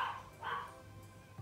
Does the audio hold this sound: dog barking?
yes